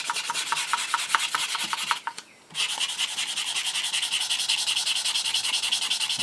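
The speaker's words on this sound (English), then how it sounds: "Alright, enough talking, more sanding" Close, rhythmic strokes of sandpaper rub back and forth on a wooden air rifle stock, pausing briefly before resuming in a steady, faster scraping pattern.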